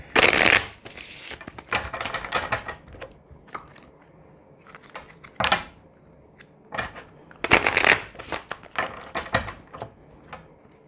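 Tarot cards shuffled in several brisk, crisp bursts with pauses between, riffling and snapping close by, with scattered light taps and handling noises.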